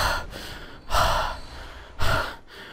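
Heavy, rasping breaths from an enemy in the Bloodborne video game, three long, loud, close inhale-exhale surges separated by brief pauses.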